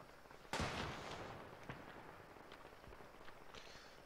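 A single sharp gunshot cracks out in ArmA 3, followed by fainter scattered distant shots and reverberation across an open battlefield.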